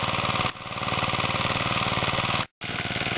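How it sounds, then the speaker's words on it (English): A small gasoline engine on garden equipment runs steadily after starting with full choke on a flooded carburetor, a loud, close, continuous chugging drone that briefly dips and cuts out near the end before resuming. "You'll also notice this engine did not kick on me when I went to start it."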